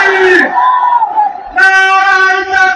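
A large crowd at an Islamic gathering roars back a takbir in unison, a loud sustained chant rising after a single lead voice calls out.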